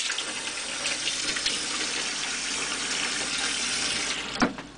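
Steady rushing water, like a running tap or sink filling, as a freshly etched circuit board is put into cool water; a continuous wash of sound with one brief splash near the end, no talk.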